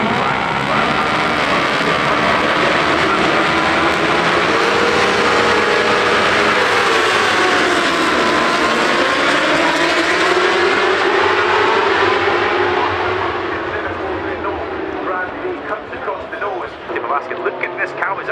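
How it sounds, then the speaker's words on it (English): A Kawasaki racing motorcycle roars around the Brands Hatch Grand Prix circuit during a 20-lap British Superbike race. The dense, loud engine howl rises and falls as it passes, under continuous commentary. "Look at this Kawasaki go, look at Christian Eriksen."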